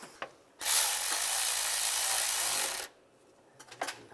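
A ratchet snugs up the oil pressure sender bolts on a 2007-2013 Chevrolet Silverado 1500: one close, sustained burst of rapid whirring ratcheting lasting about two seconds, followed by a few faint clicks.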